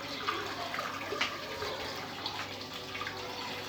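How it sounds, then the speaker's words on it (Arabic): Boiled water pours down a bathroom or kitchen drain being cleared, a continuous steady rush and gurgle of liquid at moderate level, close by with no talking. "هانتوما راني تنخوي داك الماء طايب مزيان"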